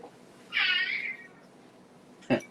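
A cat gives one clear, fairly loud meow at close range, followed by quiet and then a brief sharp click in the faint background.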